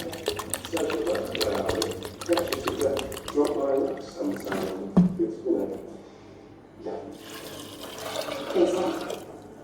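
Water poured into a pressure cooker holding soaked black-eyed beans splashes and gurgles in uneven bursts, with someone talking over it throughout.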